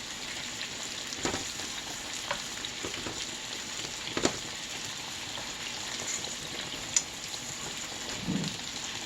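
Butter melting in a pan beside turkey Salisbury steak gives a soft, continuous sizzle with scattered faint pops and ticks, close and unbroken by talk.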